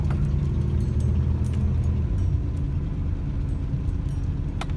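A truck engine rumbles steadily from inside the cab while driving in the rain, with faint clicks and rattles over a constant low road noise.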